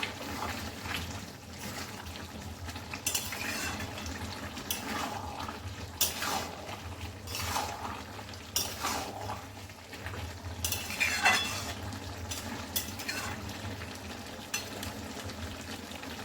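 Jackfruit and prawn curry ingredients are stirred in a pan, metal spoon scraping and clinking against the pan in irregular strokes over a low background hum, fairly quiet and close.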